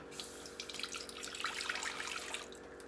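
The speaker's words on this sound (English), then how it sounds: "in a saucepan we are going to add 1/4 cup of whole milk with 1 cup of" Water poured into a saucepan holding whole milk, a bright splashing trickle with small bubbly spatters, close and fairly soft, running steadily for a few seconds.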